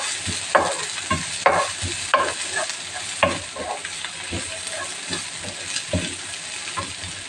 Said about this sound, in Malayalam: ഒരു മീഡിയം ഫ്ലെയിമിൽ തന്നെ ഇട്ട് വേണം വഴറ്റാൻ.